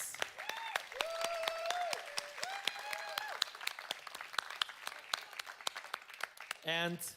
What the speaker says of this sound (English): could we please give him a big applause?